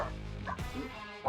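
Dogs give short yips and barks near the microphone indoors, a couple of quick vocal bursts against a quiet room.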